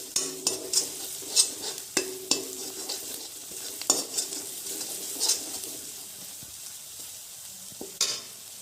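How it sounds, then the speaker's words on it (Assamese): Spices with chili powder for an Assamese fish curry are stir-fried in a pan, giving a quiet, steady sizzle broken by sharp spatula scrapes and knocks at irregular intervals. "আৰু এইখিনি এতিয়া মই ভালদৰে 2 মিনিটমান ভাজি ল'ম অলপ সময়ৰ কাৰণে।"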